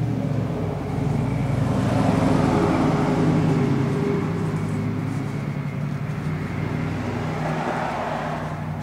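Steady street traffic outside, cars rumbling and passing in a continuous broadband wash with no breaks, fairly loud and nearby, with no voices over it.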